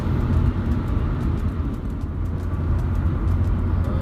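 Steady road rumble from a car driving along the Enugu-Port Harcourt expressway between Enugu and Umuahia, a continuous low engine and tyre drone heard from inside at constant loudness with no talk.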